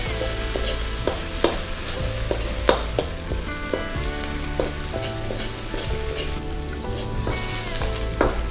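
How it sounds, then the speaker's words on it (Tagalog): Garlic, onion and ginger sauté in a hot pan with crab, a loud continuous sizzle broken by repeated clinks and scrapes of stirring, with no voices heard. "igisa na po natin yung ating bawang sibuyas tsaka luya"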